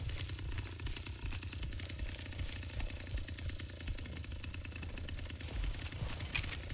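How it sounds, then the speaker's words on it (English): A running chainsaw in The Texas Chainsaw Massacre video game, a continuous buzzing engine drone that holds steady and fairly loud throughout, with no talk over it. "Probably a dumb idea having the chainsaw already turned on."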